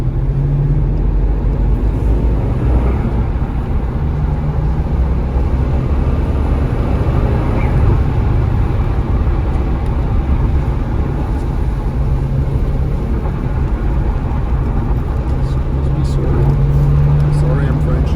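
A rare Maserati, one of only 369 built, drives along with a steady low engine drone as the driver double-clutches through gear changes. People talk over the engine sound throughout.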